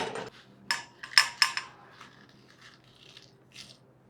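A spoon clinks and scrapes against steel plates as cooked chukkakura leaves are moved onto another plate. A few sharp, close metallic taps come first, then lighter scraping and one last soft clink, with no talking.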